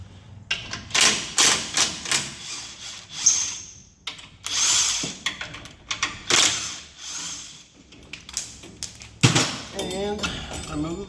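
Electric impact wrench removing the lower shock bolts on a 2008 Ram 1500 during a lift install, firing in short, loud, rattling bursts separated by pauses, with a person speaking between them.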